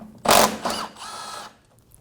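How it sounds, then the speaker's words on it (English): A 10mm socket on a ratchet loosening a top-corner bumper bolt on a 2019-2025 Ram 2500, heard as a loud close burst of clicking followed by a softer, longer run of ratchet clicks. "Using a 10mm socket, we're going to remove the bolt in the top corner of the bumper."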